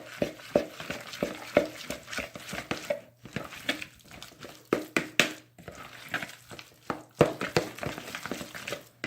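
Mayonnaise and yellow mustard are mixed together in a bowl, with rhythmic scraping and tapping strokes in bursts and short pauses between them, close by and fairly quiet.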